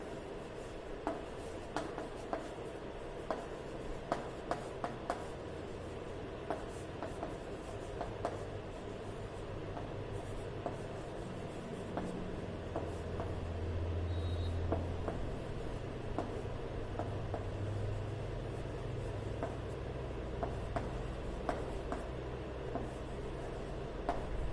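Quiet scratchy strokes and taps of writing on a board repeat irregularly, with soft rubbing and faint background room noise, and no voices.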